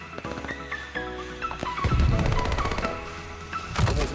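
Rapid bursts of akimbo shotgun fire in Call of Duty: Vanguard rattle in quick, rhythmic volleys over electronic tones and background game sounds.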